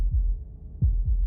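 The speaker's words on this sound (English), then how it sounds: "That was the sound of a heartbeat," Heartbeat in the video game Slay the Princess: soft, low, muffled thumps over a quiet hum, a single beat followed by a closer double beat, close and alone.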